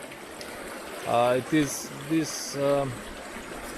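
River water streams steadily in the background beneath a voice as he speaks a few short phrases outdoors beside the biggest river in Tutin.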